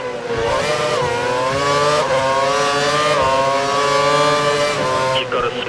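A Formula 1 car engine in the racing game F1 2012 screams at high revs, its pitch rising and dropping with each gear change, loud and close.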